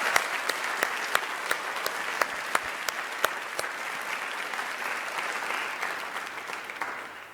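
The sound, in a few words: audience round of applause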